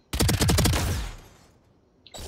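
Spectre submachine gun in Valorant fires a quick loud burst of about six rapid shots, then the echo tails off into silence before a faint click.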